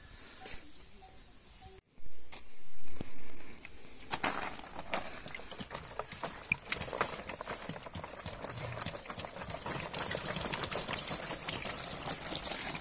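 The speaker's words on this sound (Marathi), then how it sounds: "पाणी टाकून घेतो, पाणी राहायला पाहिजे" Water poured into a homemade tank built for lotus plants, a splashing, gurgling rush that starts after a quiet stretch and continues loud and near.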